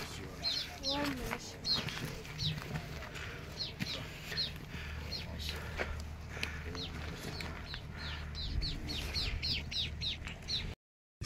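Sparrows chirp repeatedly outdoors on the Kailash–Manasarovar pilgrimage route, a busy flock of short bright tweets, some near and some farther off, over a steady background rumble and some speech.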